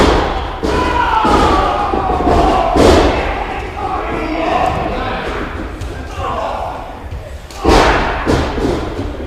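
Stiff strikes and slams in a wrestling ring during a rumble match, repeated heavy thuds and mat impacts under a roaring crowd, with a commentator talking throughout.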